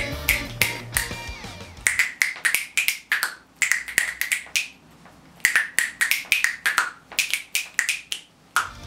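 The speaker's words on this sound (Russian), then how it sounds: "Щелчками пальцев он сыграл знакомую мелодию от начала и до конца." Rapid finger snaps play the Super Mario melody, crisp dry clicks in a quick rhythmic pattern with short pauses between phrases, close and clear after a brief musical lead-in.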